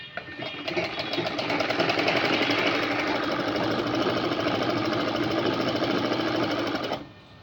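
A sewing machine stitches fabric in one continuous run, a fast even mechanical chatter that starts, holds steady and loud at close range for several seconds, then cuts off abruptly, with no talking.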